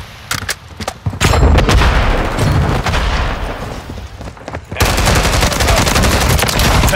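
Loud, rapid gunfire in the Call of Duty Modern Warfare III multiplayer map Highrise in New York City, with dense overlapping bursts and booms that ease briefly and then resume at full intensity.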